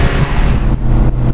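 A 70 hp Autobianchi A112 Abarth from the 1970s, heard from inside the car, its engine revving hard in fourth gear close to the limit with a loud, steady droning growl.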